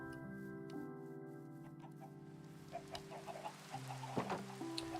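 Chickens cluck in a Minecraft world with a dinosaur mod, short clucks scattered over a steady layer of game music and ambience.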